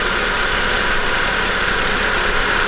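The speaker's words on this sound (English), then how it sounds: "the alternator is spinning, and there is no wobble" BMW N52 inline-six engine idles steadily at close range with its alternator spinning on the belt drive, a dense, even mechanical hum and whine without pause.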